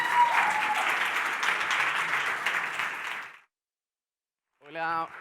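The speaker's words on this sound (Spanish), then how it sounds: "pido un fuerte aplauso para ellos" Audience applause for guests arriving at a Podcast Days event session, steady and fairly loud for about three seconds before cutting to silence, then a brief voice returns at the end.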